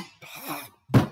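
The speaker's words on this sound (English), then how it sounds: "Oh my God, I'm coughing in front of thousands of people." One sharp, close cough follows a soft, drawn-out vocal groan.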